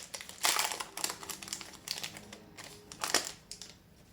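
A Magic: The Gathering Ravnica Allegiance booster pack being torn open and handled, giving a short run of crisp crinkling and rustling bursts of foil wrapper close by, with no voices.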